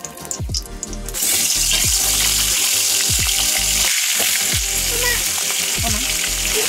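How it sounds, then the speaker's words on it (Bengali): Fish heads coated in turmeric and salt drop into hot oil and erupt into a loud, steady sizzle close by, with a few clinks of the pan under the crackling. "এবার তেলে মাথাগুলো দিয়ে ভেজে নেব"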